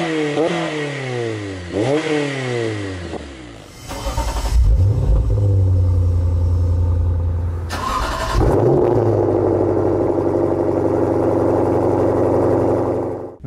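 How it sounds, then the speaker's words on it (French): A car with an aftermarket cat-back exhaust starts with a few cranking whirs, then settles into a loud, deep idle broken by a couple of sharp revs. The tone stays rumbly and close throughout, with no talking. "Le catback est surtout utilisé pour modifier la sonorité de ton véhicule."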